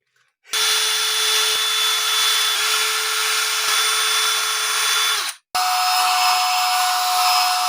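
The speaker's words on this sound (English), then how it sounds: "I'm going to drill out these neck screws just to give me a little bit of play" A power drill whines loudly and steadily as it bores out the neck screws on a Fender Telecaster Deluxe, running for several seconds, stopping briefly, then starting again up close.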